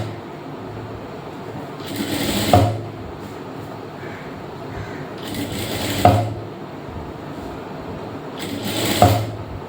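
A sewing machine stitches a blouse sleeve in three separate bursts, each a short rising whir ending in a mechanical clunk, spaced a few seconds apart over a soft room background.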